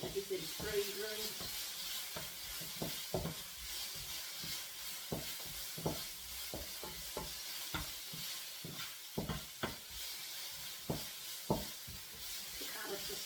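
Ginger beef and carrots stir-frying in a pan, with a soft steady sizzle broken by repeated clinks and scrapes of a utensil as the food is kept moving.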